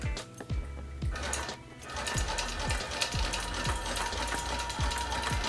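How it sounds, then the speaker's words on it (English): A longarm quilting machine basts around the perimeter of layered fabric for a face mask, running with a steady mechanical whir and repeated ratcheting clicks and thumps. "And now we're gonna baste around our fabric."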